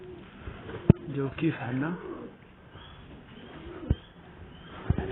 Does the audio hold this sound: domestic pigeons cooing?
yes